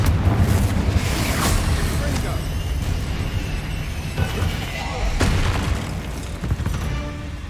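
A Confringo blasting spell goes off in Hogwarts Legacy combat, a series of loud booming explosions and bursts over continuous battle noise, with a voice heard among the blasts.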